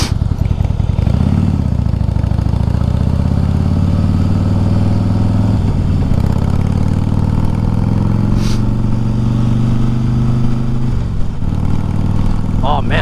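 A Harley-style slim motorcycle fitted with new parts, including mirrors and ape hanger handlebars, rides with a loud, steady engine drone. The engine rises and falls through gear changes and stays close and continuous throughout.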